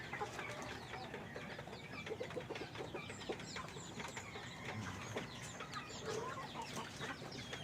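Black Australorp and Rhode Island Red chicks peep and cluck in a dense, continuous chorus of overlapping short calls, close by, with no talk over them.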